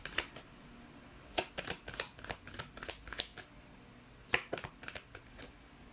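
Chinese fortune cards being shuffled in quick riffling bursts, close and crisp, with a pause near the middle before another run of flicking card sounds.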